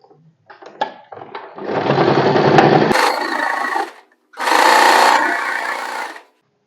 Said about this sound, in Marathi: पहिला मी खालून वर अर्धा इंचावर स्टिच करून घेते.